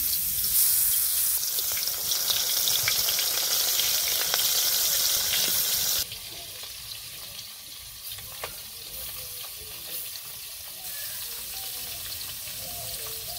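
Taki fish frying in a hot karahi with tempering spices at a village cooking fire: a loud, close sizzle for the first few seconds, then dropping to a quieter, steady frying hiss.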